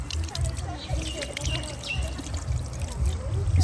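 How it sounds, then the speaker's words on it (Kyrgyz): Clean water runs from a pedal-operated drinking fountain in a park in Osh, Kyrgyzstan, a close, steady pouring trickle that carries on beneath a voice speaking. "Бул жерде суу чыгып турат экен."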